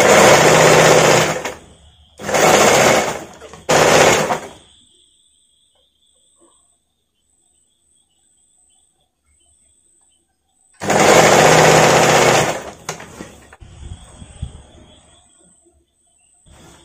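A loud, close sewing machine stitches the padded back neck of a princess-cut designer blouse. It runs in three quick bursts, then falls silent for several seconds before one longer run, followed by faint handling sounds.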